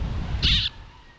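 Baby birds in a nest in a tree give a brief, bright burst of high chirping, a single short call cluster over a low ambient rumble.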